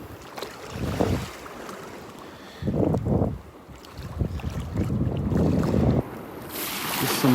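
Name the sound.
ocean waves coming in and out on a beach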